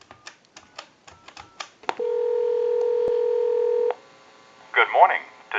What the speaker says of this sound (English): and we'll dial that number.